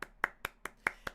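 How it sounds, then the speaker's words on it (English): A small burst of applause: six sharp, evenly spaced hand claps, close and fairly loud, spread over about a second with nothing else around them. "So another round of applause for Yoflow."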